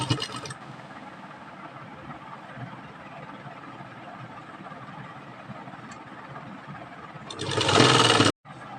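A sewing machine stitches lace onto a dupatta, a low steady motor hum that swells into a louder, brighter whir near the end before cutting off abruptly.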